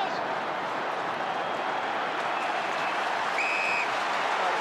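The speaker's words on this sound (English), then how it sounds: "It's time to stand and applaud your team as they're doing on the bench." North Melbourne supporters at a 2014 AFL elimination final giving their team sustained applause, a broad wash of clapping and crowd noise from a large stadium, steady and somewhat distant, with a faint whistle near the end.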